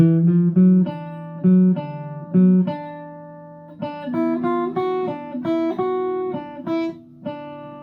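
A short ragtime tune played on piano, with bouncy, syncopated notes and chords and a few brief pauses, clear and close.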